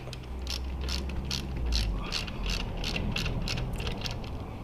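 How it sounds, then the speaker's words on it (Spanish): A 13 mm wrench ratchets a bolt tight during an oil change on a KPT 200 motorcycle, giving a steady run of a dozen or so crisp clicks over a low background hum. "Lo apretamos con la llave de 13 milímetros."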